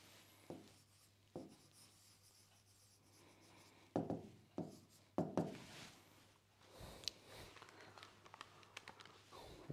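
Marker or chalk strokes on a classroom board during a finance lecture: faint, scattered scratchy rubs in short bursts, quiet and close, with a quickening cluster of strokes toward the end.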